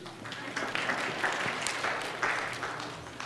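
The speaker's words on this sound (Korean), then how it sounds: "예, 박수." A church congregation claps together in a warm burst of applause that holds steady for a few seconds, moderately distant and without voices over it.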